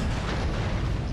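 Mortar fire in the battle game Napoleonic Total War III, a dull rumbling boom with a sustained low roar filling the short moment, fairly loud and without speech.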